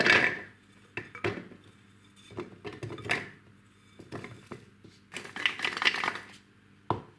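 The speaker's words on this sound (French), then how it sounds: "nous allons pouvoir maintenant mettre une partie seulement de la portion dans le robot mixeur" Vegan pesto ingredients dropped into a food processor bowl: a string of hard clinks, taps and rattles against plastic and metal, coming in short bursts with brief pauses, close and fairly loud.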